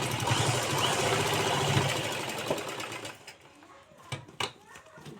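Sewing machine double-stitching a handbag made from a plastic sack, running in a fast continuous whir for about three seconds before stopping, followed by a few faint handling clicks.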